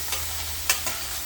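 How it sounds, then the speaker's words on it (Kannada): Okra and onion stirred together in a pan for oil-free cooking: a steady soft sizzle-hiss, with three scraping stir strokes standing out, one stronger near the middle. "ಬೆಂಡೆಕಾಯಿನ ಒಂದು ಸತಿ ಕಲಿಸ್ಬಿಡೋದಷ್ಟೇ."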